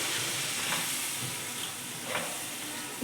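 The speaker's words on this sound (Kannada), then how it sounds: "ಈಗ ಹುಣಸೆಹಣ್ಣಿಂದು ರಸ ಹಾಕ್ಕೊತಾ ಇದ್ದೀನಿ." Tamarind juice hitting a pan of sizzling vangibath gojju seasoned with coriander powder, giving a steady close frying hiss with soft bubbling and faint stirring throughout, no talk.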